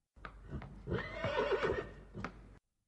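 A magnificent snow-white horse gives a clear whinny, its high whinnying call flanked by a few hoof clops, close and alone without voices.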